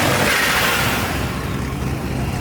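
Supercharged Corvette C3 with a big blower revs hard while pulling away from a car meet, a loud, close, roaring engine note that tapers slightly as it goes, with no talk.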